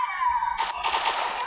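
Rapid gunfire in the shooting video game Infinity Ops, a steady tone giving way to loud bursts of automatic shots fired close, with no voices.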